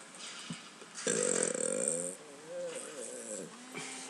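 A human burp contest produces a drawn-out, loud, close belch lasting about a second, followed by a softer wavering croak and a brief final burp, with no talking.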